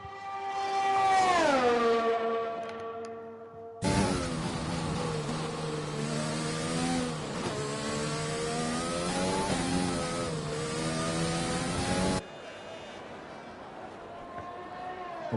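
A race car in a racing video game at Spa in Belgium runs a flying lap with DRS open, its engine whining steadily with gear-change dips, while a commentator talks over it.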